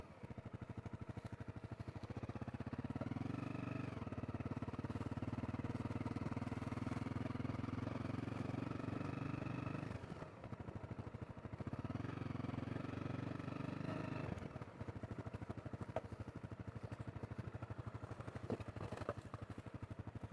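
A Honda CRF250L dual sport motorcycle engine drones steadily while riding, with two longer stretches of rising and holding throttle, close and continuous throughout.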